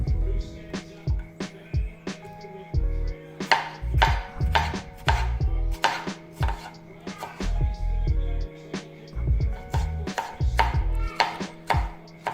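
A knife dices deseeded tomatoes for salsa on a board, giving a close run of sharp chopping knocks in quick uneven bursts with short pauses between them.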